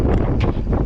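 Gusty wind buffets the microphone on a slopestyle jump line ridden on an enduro bike, a steady low roar with brief rushing swells and no voices.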